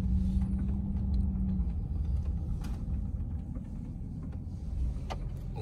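Steady low truck engine rumble idling close by as the vehicle pulls in to park at a corner-lot lawn, continuous with no talking.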